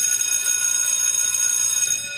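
A broken bell rings with a high, metallic, sustained tone that hums steadily for a couple of seconds before easing off, with no talking.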